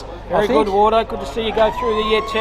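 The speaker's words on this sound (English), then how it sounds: "And that is the siren here." A long steady siren tone rises and holds near the end of a country football championship match, sounding under a commentator's voice and crowd noise.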